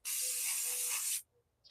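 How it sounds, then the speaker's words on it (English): A single close, loud burst of bed liner spray hisses inside a small john boat for about a second, then stops abruptly, followed by a tiny short puff. "We are doing the bed liner spray on the little boat"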